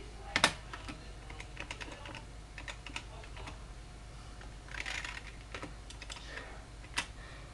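Keyboard keys clatter in irregular bursts of quick taps with short pauses, fairly close and quiet, while text is typed into a document in an image editor.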